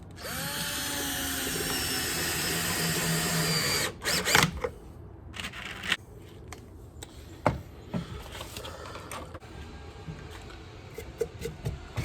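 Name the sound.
power drill backing out screws to add washers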